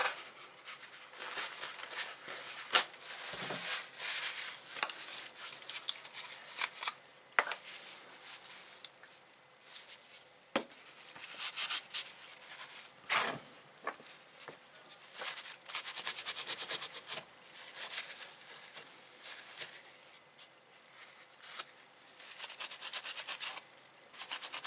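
A cloth soaked in acetone rubs nail varnish off an etched knife blade, producing dry, scratchy rubbing strokes in uneven bursts with short pauses, close and fairly quiet, without any talking.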